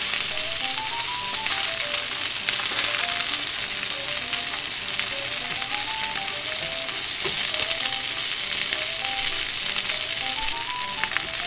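Pork belly rolls browning in a frying pan, a loud, steady, dense sizzle that runs unbroken throughout, with faint music underneath.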